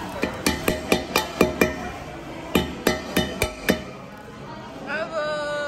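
Hammer striking seafood shells at a Dubai seafood restaurant table: about a dozen sharp, ringing cracks in two quick bursts, close and loud, followed by a brief rising voice near the end.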